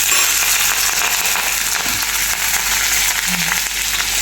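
Garlic, ginger, curry leaves and shallots frying in hot mustard oil for beetroot pachadi, a loud steady crackling sizzle with faint stirring scrapes, close by and continuous.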